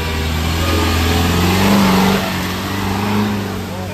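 A Mahindra Thar's engine revs hard while being driven over rocky off-road ground, a loud, sustained mid-pitched drone that swells near the middle and again toward the end, with no talking over it.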